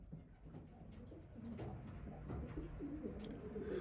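Young pigeons coo softly inside a loft, low murmuring calls overlapping at a fairly quiet level with a faint background hum.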